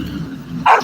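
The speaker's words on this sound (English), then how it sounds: "That's what he was barking at." A single short dog bark rings out, loud and close, rising briefly above a low background rumble from a passing garbage truck.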